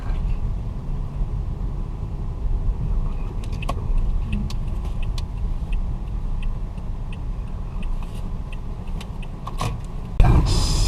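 A manual car drives and turns a corner during a driving lesson, giving a steady low engine and road rumble inside the cabin, with faint ticks and a short louder bump near the end.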